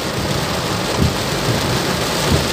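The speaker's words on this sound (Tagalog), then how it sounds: "ang lakas na ng ulan" Heavy rain pouring steadily during a downpour in traffic, a dense continuous loud roar of falling water with faint low rumbles underneath and no speech.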